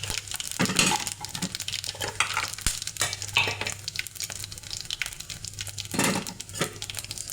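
Cumin seeds and broken red chilies temper in hot oil, giving a steady close crackle and sizzle broken by sharper pops and a few clinks of a spoon against the pan.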